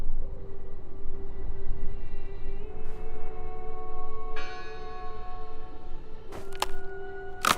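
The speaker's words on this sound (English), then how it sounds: "I heard the bell" Bells ring in the Draugen video game, a sustained resonant tone joined by further struck bell notes that layer and ring out, fairly loud with a low rumbling ambience beneath.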